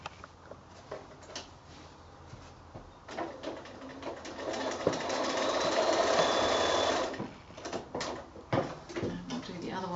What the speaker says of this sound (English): just where the elastic overlaps, you can just do a little stitch, straight stitch is fine.